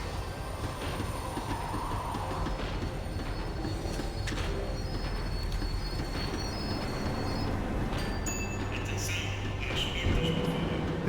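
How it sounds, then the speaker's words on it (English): A video-game tram rolls along with a steady low rumble, wheels squealing and rattling as it slows, the noise holding even and loud throughout with faint high screeches near the end. "The tram was slowing down, and I'd only just gotten on board."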